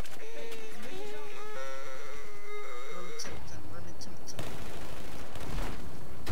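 Gunfire in Battlefield 4, with sharp shots and bursts mixed into loud game noise while players talk and shout over it.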